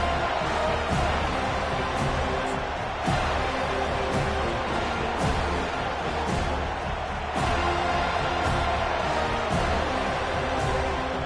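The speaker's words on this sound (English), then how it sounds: "This crowd bringing an ear-splitting welcome to their visitors." A packed stadium crowd at a football game roars steadily and loudly, a dense, continuous wall of cheering with occasional sharper swells, heard on its own without a commentator.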